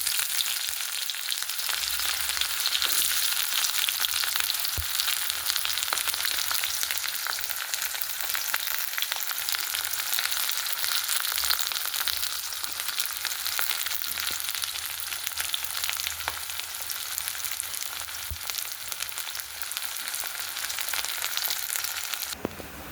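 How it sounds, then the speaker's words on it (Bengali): Onions frying into beresta in a village kitchen, a steady dense sizzle that holds loud and even for about twenty-two seconds and then cuts off near the end, with no talking. "আগে বেরেস্তাটা করে নেব"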